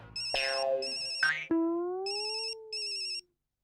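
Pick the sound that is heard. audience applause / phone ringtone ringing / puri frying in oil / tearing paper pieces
phone ringtone ringing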